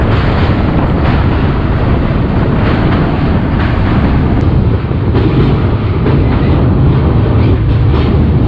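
The Howrah-Puri Express passenger train rumbles along the rails in India with a loud, continuous roar, heavy wind buffeting and faint rhythmic clatter, heard from inside a sleeper-class coach.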